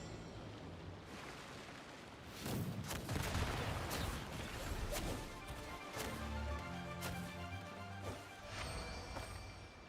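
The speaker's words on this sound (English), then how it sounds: "An explosion from the pirate one." Booming explosions and crashing blasts from a pirate encounter in Genshin Impact, several heavy impacts in quick succession, followed by lingering rumble and scattered hits.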